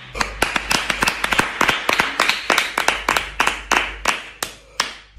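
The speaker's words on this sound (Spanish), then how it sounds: "vamos a presentarle con un aplauso" A classroom group claps to welcome a new student: rapid, uneven hand claps, close and loud, in a dense burst that thins out toward the end, with no talking.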